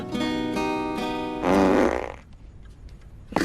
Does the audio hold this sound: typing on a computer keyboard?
no